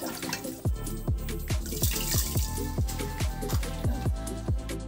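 Water pours steadily into a cooking pot before rice goes in for bagara rice, a continuous close splashing stream with rhythmic gurgling pulses throughout.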